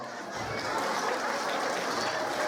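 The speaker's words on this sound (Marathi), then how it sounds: "पालकांनी स्वतःसाठी पहिल्यांदा सगळ्यांनी स्वतःसाठी टाळ्या वाजवा" Parents at a children's school festival applaud. A moderate crowd claps continuously and evenly, slightly muffled and mixed with a faint murmur of voices.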